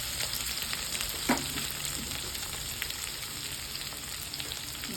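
Cumin, curry leaves and crushed ginger and garlic frying in a pan, a steady crackling sizzle close by with one sharper tap of a utensil early on.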